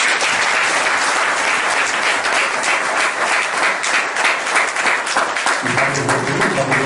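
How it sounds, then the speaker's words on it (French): Lively audience applause at a conference hall in Bobigny as a speaker is welcomed, dense continuous clapping from a sizable crowd with a voice briefly rising over it near the end. "Sous vos applaudissements."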